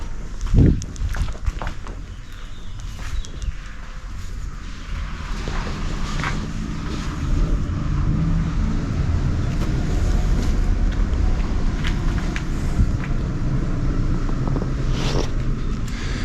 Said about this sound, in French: Vu le bruit que ça fait, ça doit être un camion